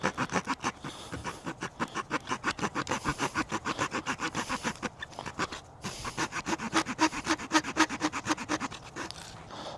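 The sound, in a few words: Pioneer multi-tool saw cutting seasoned almond wood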